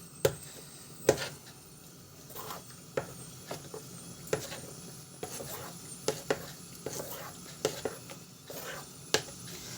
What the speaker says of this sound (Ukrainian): помішаю, розмішаю з цим молочком